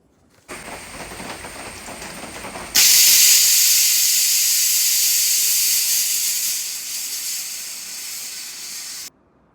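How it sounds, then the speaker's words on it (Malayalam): A pressure cooker holding lentils, onion and green chilli lets off a sharp hiss that begins abruptly, stays loud and steady for several seconds, then eases slightly before cutting off. "നന്നായി കഴുകി വൃത്തിയാക്കിയ പരിപ്പ് കുക്കറിലിട്ട് സവാളയും പച്ചമുളകും ചേർത്ത് ഒരു വിസിലടിപ്പിക്കുക"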